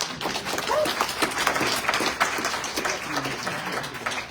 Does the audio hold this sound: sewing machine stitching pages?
no